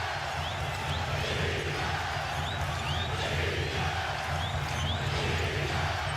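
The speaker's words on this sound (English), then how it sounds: "This crowd in a frenzy. Many on their feet here at the Staples Center." A frenzied basketball crowd roars at Staples Center during the fourth quarter of Game 7 of the 2010 NBA Finals, Celtics versus Lakers, a loud continuous wall of cheering with scattered whistles and shouts throughout.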